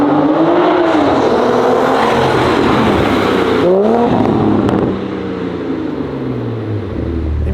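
A 770hp widebody Toyota Supra cruises through city streets at moderate speed, its engine droning loud and close with rising and falling revs from gear changes, steady throughout.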